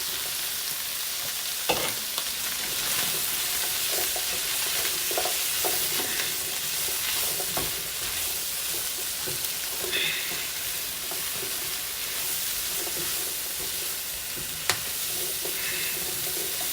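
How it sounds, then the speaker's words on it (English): Mushrooms frying in butter with garlic for beef stroganoff, a steady loud sizzle broken by occasional stirring scrapes and clinks, heard up close with no talk. "Okay, now I'm going to add my butter, my garlic. Going to add mushrooms."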